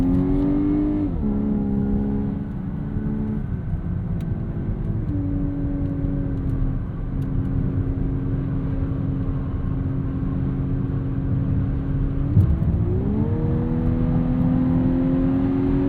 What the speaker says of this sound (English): piped-in engine noise to listen to